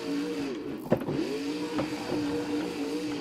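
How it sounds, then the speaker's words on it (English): A monster truck's transmission strains to find second gear in a BeamNG racing game, with a whining drivetrain tone that stutters and shifts pitch, including a sharp clunk near the start. "Sounds like some transmission struggles for Brandan Tulachka."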